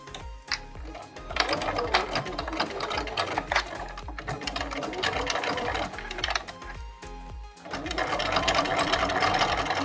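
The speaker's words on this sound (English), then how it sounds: "So I'm gonna begin sewing with a 1/4-inch seam allowance." A sewing machine runs close and loud, stitching a quarter-inch seam on a fabric face mask in several continuous bursts separated by brief pauses, its rapid mechanical chatter filling the whole stretch.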